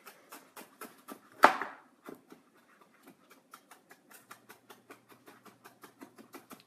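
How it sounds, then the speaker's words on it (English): Fresh dill chopped with a knife on a board, a steady run of quick, light, even taps with one louder thunk early on, close and fairly faint, no talking over it. "when you're chopping herbs, all you have to do is just kind of bunch them up into a really, really tight ball"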